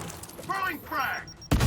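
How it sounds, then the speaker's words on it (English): Frag grenade blast in the tactical game Gears Tactics, a sudden loud burst that cuts in at the very end after a stretch of speech. "Throwing frag!"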